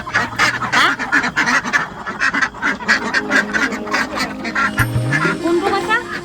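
Ducks quack repeatedly and close by, kept for meat, in a rapid, overlapping chorus that runs throughout with a little talk mixed in.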